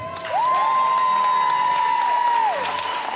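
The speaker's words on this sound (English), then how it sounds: "could please come forward with a big round of applause" Crowd applause and cheering for the first prize winner, Willow Jane, at a sweet sixteen celebration, a steady round of clapping that holds for about two seconds under a loud sustained tone that rises, holds and falls away.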